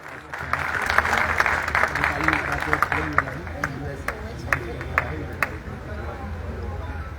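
Hearty applause from an event audience as a bouquet is presented, a dense run of claps with a few sharper near ones, steady for several seconds over a murmur of crowd chatter.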